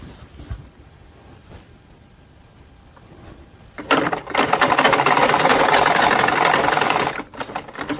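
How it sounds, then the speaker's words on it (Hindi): Sewing machine stitching small doll clothes for Laddu Gopal: a quiet lead-in, then a loud, steady mechanical whir that runs for about three seconds before stopping abruptly. "इस तरीके से सिल देंगे।"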